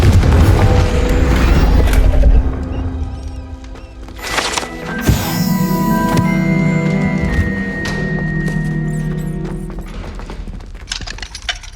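A Confringo fire spell blasts in Hogwarts Legacy, a sharp booming burst near the midpoint amid layered game effects, tonal chimes and hoof-like clatter, with loud mixed game audio at the start.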